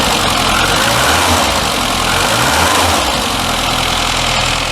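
A Classic Mini engine idles steadily with thick, cold oil in the sump, giving a continuous loud low rumble with slight uneven pulsing and no talk.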